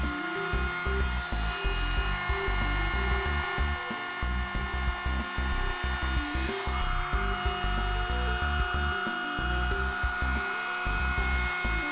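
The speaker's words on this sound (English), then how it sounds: "I'll take my trusty Dremel and trim down the edges" A Dremel rotary tool trims the edges of a relay for a motion-detecting light switch project, producing a steady close high-pitched whine with a rapid fluttering grind as it cuts.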